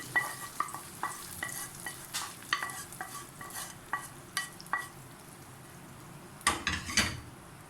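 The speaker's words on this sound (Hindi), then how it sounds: "अब बघार तैयार है। अब मैं दाल के ऊपर इसको डाल दूँगी।" Hot tempering (baghar) poured over yellow moong lentil daal, dhaba style: a series of metallic stirring clinks, then a brief, loud burst of sizzling near the end. No one speaks.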